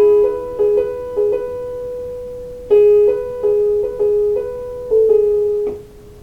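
Solo piano playing a short passage of a song, with repeated chords struck in a steady rhythm and sustained notes ringing between them, clear and close with no voice.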